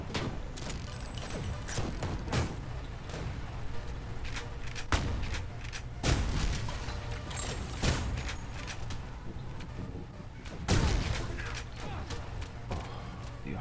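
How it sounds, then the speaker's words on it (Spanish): Gunfire and explosive thuds in the retro first-person shooter Ion Fury: repeated heavy bursts and booms stack up across the stretch, with louder hits near the start, middle and end over dense game noise. "Alguien nos está pegando tiros por ahí, no sé dónde."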